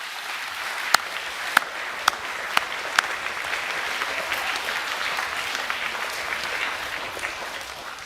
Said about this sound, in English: Can we give all of those people a round of applause